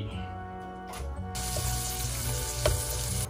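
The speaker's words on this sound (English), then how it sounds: "Stir the kimchi and cook for about 3 to 5 minutes." Kimchi hits a frying pan of melted butter and bursts into a loud, steady sizzle that continues close by, with a single clink of a utensil partway through.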